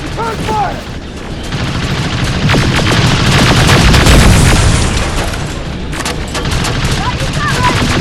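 Sustained heavy gunfire in the Terminator Resistance game, a dense fusillade of rapid shots and booms running throughout, loud and close, with occasional shouted voices and electronic chirps mixed in.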